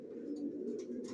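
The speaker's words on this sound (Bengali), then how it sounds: "2023 সালের কবুতর।" Young racer pigeons cooing close by, a continuous low throaty burble over about a second, with faint chirps above it and no voices.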